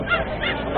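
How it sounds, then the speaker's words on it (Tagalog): Geese honk in a brief, loud, nasal burst of overlapping calls nearby. "ang daming ibon ni sir, Elias dito."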